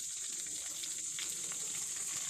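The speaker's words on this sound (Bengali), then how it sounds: "দেখছো কড়াইতে দিছি এখন আগুন আস্তে আস্তে জল দিয়ে ভাজতে হবে" Fish frying in a karahi with a little water over low heat, giving a steady, close hiss and sizzle that runs unbroken and fairly loud with no talking.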